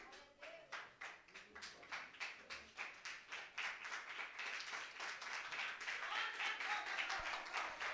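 Church congregation clapping hands during an evening worship service, starting as a slow rhythmic beat of many hands and swelling into a fuller, faster scatter of applause, fairly faint and distant.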